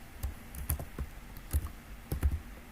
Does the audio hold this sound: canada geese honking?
no